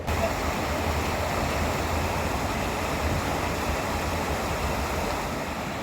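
Where the River Lee meets the Lee Navigation, water rushes in a loud, steady roar, dense and unbroken like a weir or waterfall, with no voices or other sounds over it.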